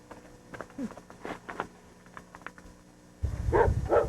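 A dog barks and yips in short scattered bursts, then a louder, rougher stretch of barking near the end over low rumbling noise.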